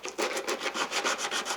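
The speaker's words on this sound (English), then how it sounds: "good old sandpaper" Sandpaper rubs back and forth on wood in an instrument shop, a steady rhythmic rasp of about eight close strokes with no talking.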